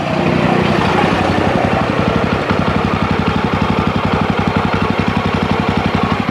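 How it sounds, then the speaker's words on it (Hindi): A Jawa Roadster motorcycle sits idling in neutral, its exhaust note a steady, rapid, even thumping pulse heard close and loud, with no talk over it. "this is the exhaust note you get"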